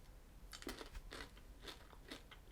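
Crunchy bites into peanut butter M&Ms candy, a few close crisp crunches with soft chewing between them, quiet and alone with no talk.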